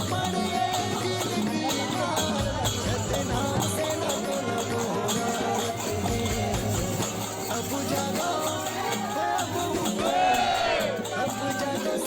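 A dense crowd at a religious procession for a guru's birth anniversary and saint gathering produces a constant, loud roar of many mixed voices, with shouting and a swell of cries near the end.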